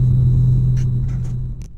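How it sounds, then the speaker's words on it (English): A 2018 Honda Accord engine at wide open throttle with a PRL intercooler, a deep steady droning rumble heard from inside the cabin, with a few faint clicks on top, tapering off slightly at the end. "gonna go ahead and step on the pedal to the metal to get this going"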